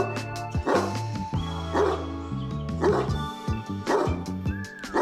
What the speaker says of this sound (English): Can I pet that dog?